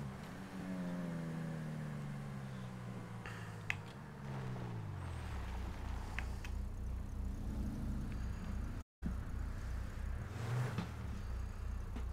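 A truck engine in a roleplay driving game drones steadily, revving and sliding up and down in pitch as it labors along, sustained and fairly close with no speech over it.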